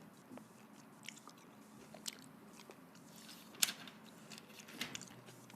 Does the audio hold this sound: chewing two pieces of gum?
yes